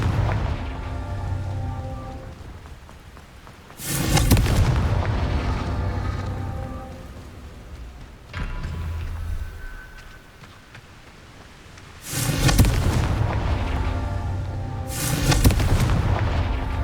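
Fiery Confringo spell blasts in Hogwarts Legacy, three loud bursts a few seconds apart with a smaller thump between, each trailing off in crackling rumble over a continuous background hum.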